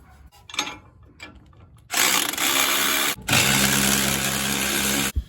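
A ratchet tightens the mounting bolt on a towing airbag fitted to a leaf spring, giving a few faint clicks and then two long, loud bursts of harsh mechanical whirring close by, separated by a brief pause.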